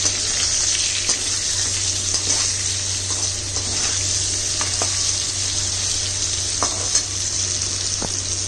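Pumpkin pieces sizzle steadily in hot oil with partly fried potatoes, a constant close frying hiss broken by occasional light stirring clicks and taps.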